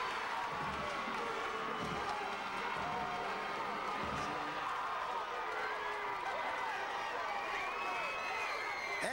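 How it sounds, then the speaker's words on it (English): Stadium crowd at a high school football game cheering steadily after a Bengals touchdown, a broad continuous roar with some clapping that holds for the whole stretch, without a lull. "that's a happy crowd now as the Bengals get on the scoreboard"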